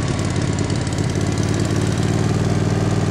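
A tractor engine runs at a steady idle, close and loud, with a constant low throb and rattling knock throughout and no one speaking.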